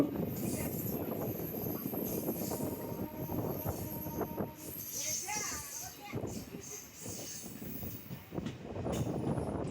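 A MEMU passenger train runs from Narasapuram to Vijayawada with a steady loud rumble, rattling wheels and brief squeals throughout, with people talking over it.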